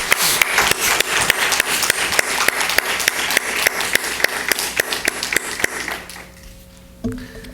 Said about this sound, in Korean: 큰 박수로 먼저 축하하기 원합니다